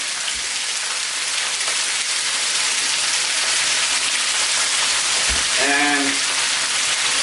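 Chicken involtini rolls sizzle and fry steadily in a pan, a dense, even crackle throughout with a brief word spoken partway.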